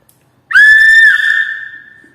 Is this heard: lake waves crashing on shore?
no